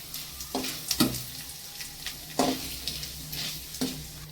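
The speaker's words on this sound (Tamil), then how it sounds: "எண்ணெய் கொஞ்சம் காஞ்ச உடனே நம்ம சீரகமும் மிளகும் வச்சுருக்கோம் இல்லையா, இதை போட்டு இதை நல்லா கொஞ்சம் நேரம் அப்படி வதக்கிக்கலாம்" Cumin seeds and black pepper sauté in hot oil, with a soft sizzle under a series of distinct stirring scrapes and clinks of a spoon against the pan, roughly every second, close up and without speech.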